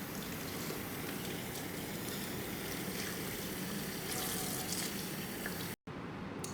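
Running water pours steadily over toned blonde hair extensions during a thorough rinse, a constant rushing splash that cuts out for an instant near the end before resuming.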